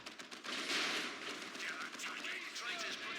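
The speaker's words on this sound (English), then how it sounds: "I just called in a mortar strike on them." Explosive mortar strike in the real-time strategy game Dawn of War II, heard as a loud, sustained barrage of blasts and gunfire crackle with rumbling impacts that continue throughout.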